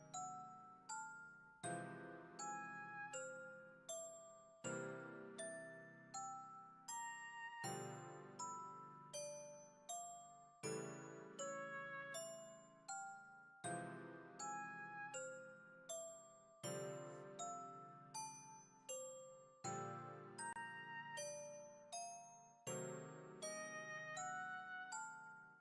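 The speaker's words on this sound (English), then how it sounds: "we just heard the chime again" A tinkling music-box style chime from the horror film Annabelle: Creation, a slow repeating melody of bright bell-like notes in a steady rhythm, quiet and alone without voices.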